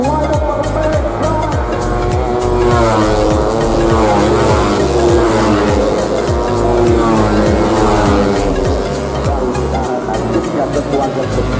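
Tuned 150cc motorcycles race in a beginner class of the Yamaha Cup at the Bukit Peusar circuit in Tasikmalaya. The engines roar loud and without pause as bikes rev and pass in repeated surges, and a commentator talks over the noise.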